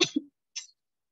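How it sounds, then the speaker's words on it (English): Two short, rough coughs in quick succession, then a brief pause and a fainter, breathy third burst, fairly close and with no talking. "Mom, I think your cough is getting worse."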